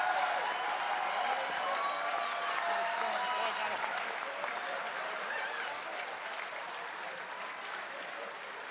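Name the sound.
audience applause at a convention panel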